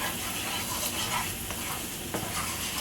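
Garlic sizzles in olive oil in a pan with a steady, close crackling hiss, while a utensil stirring it scrapes and shuffles through the frying.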